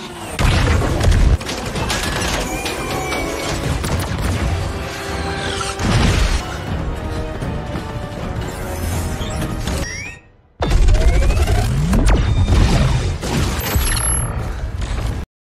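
Booms, metallic mechanical clatter and crashing impacts fill a sci-fi battle around an ion bomb explosion in the film Atlas, followed by a brief silence and another heavy burst.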